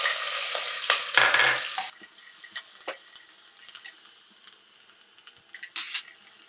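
Onions dropped into hot oil already frying cumin seeds and asafoetida, giving a burst of sizzling and stirring that swells briefly, then settles into a quieter, crackling fry with scattered clinks and scrapes.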